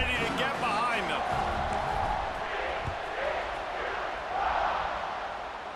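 A stadium crowd roars at kickoff in a college football video game, TCU versus Baylor, with a broad, sustained wash of crowd noise that swells near the end, under a commentator's voice.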